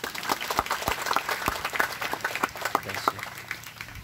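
A church congregation applauds during a sermon, a steady crackle of many hands clapping at a distance in a reverberant hall, with a murmur of voices underneath.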